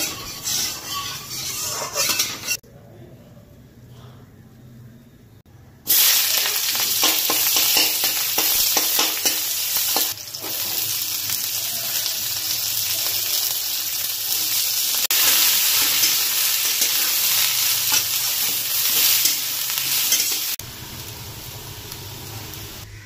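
Chow mein noodles with cabbage and potato stir-fry in hot oil, sizzling loudly in a continuous hiss with rattling stirring strokes, after a brief quieter stretch, then dropping back near the end.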